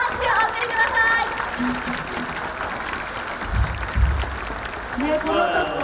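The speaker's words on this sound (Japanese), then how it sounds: "皆さん、大きな拍手をお送りください。" Applause from a crowd of fans at a football club's fan appreciation day closing ceremony, a moderate, steady patter of clapping heard at some distance beneath a PA voice, with a couple of low thumps midway.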